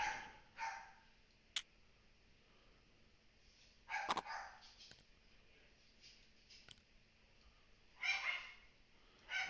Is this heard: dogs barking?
yes